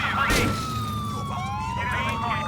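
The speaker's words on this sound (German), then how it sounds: "Mit Blaulicht und Sirene." A police siren in Grand Theft Auto IV wails, sweeping up and down over a low engine rumble, with a brief burst of noise early on; it sounds fairly close.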